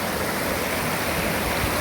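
Terhakhola, a mountain stream in a quiet, forested valley, gives a dense, steady rush of flowing water throughout, close and even with no breaks.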